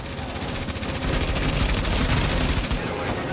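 Rapid gunfire in The Division video game during a hard challenge mission, dense overlapping automatic bursts that hammer on loudly and continuously, ending with a brief tail.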